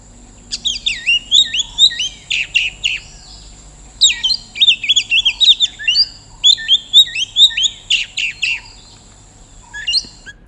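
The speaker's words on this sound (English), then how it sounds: "Now let's listen to a songbird, the oriental magpie robin." Oriental magpie robin singing alone, a rich, varied run of clear whistles, trills and chirps in bursts with short pauses, close and loud over a quiet background.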